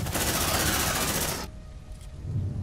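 A deployed sentry gun in the Aliens: Dark Descent game rattles off a fast, loud, continuous burst of automatic fire for about a second and a half, then cuts out abruptly, leaving quiet background hum.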